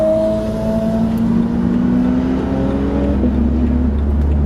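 A Porsche 997 racing car's engine sounds loud and close as it passes, its revving pitch sliding down gradually over several seconds with a constant rumble beneath and no voices.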